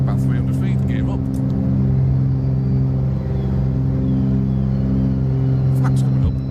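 Twin engines of a Milviz Cessna 310R drone loud and steady during takeoff in Microsoft Flight Simulator, a constant close rumble with no talk heard in the clip.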